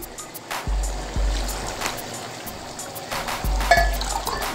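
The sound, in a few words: water being poured into rice for chana pulao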